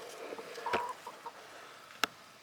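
Hens on a farm give a few soft, scattered clucks at moderate distance, one clearer call standing out, with a sharp click near the end and otherwise quiet surroundings.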